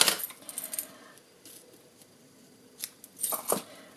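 Scissors snip through a length of Poppy Parade, giving a few short, light metallic clicks and crisp snips close by, spread across quiet pauses with small rustles of the material between cuts.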